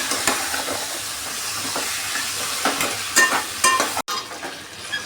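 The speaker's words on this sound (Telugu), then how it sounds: "ఇప్పుడు చికెన్ కూడా దీంట్లో యాడ్ చేసేద్దాం. మంచిగా మసాలా మొత్తం చికెన్కి పట్టేటట్టు బాగా తిప్పాలండి." Chicken being stirred into masala in a frying pan, a steady close sizzle with scraping spatula strokes and a brief cut near the end.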